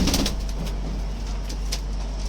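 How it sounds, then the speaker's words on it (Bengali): Pigeons in a fancy pigeon breeding loft give soft, low cooing over a steady background hum, with a few faint higher chirps, heard close and without talk. "এই দেখুন খুব স্পিডি পায়রা একদম সঙ্গে সঙ্গে উড়ে চলে যাবে"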